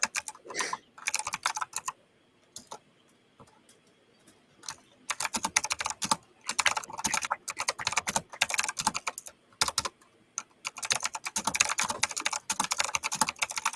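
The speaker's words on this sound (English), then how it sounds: "The faces I must make when I'm typing." Rapid keystrokes clatter on a computer keyboard in close, uneven bursts separated by brief quiet pauses, with no voices.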